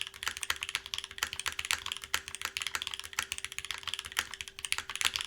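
Fast typing on an Eden R2 mechanical keyboard, a dense stream of sharp close key clacks in uneven bursts, with no talk over it.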